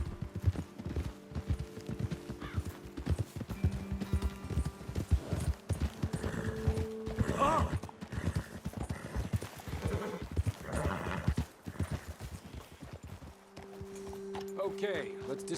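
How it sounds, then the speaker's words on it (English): Horses trotting in the Red Dead Redemption 2 video game: a steady, close clip-clop of hooves runs throughout, with an occasional whinny, over in-game ambience and voices. "Best leave the horses back a bit."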